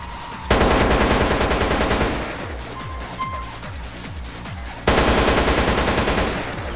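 An M4 rifle from a GTA San Andreas weapon mod fires rapid automatic bursts, loud and close, with a sharp rattling volley, a stretch of slower individual shots, then another dense burst.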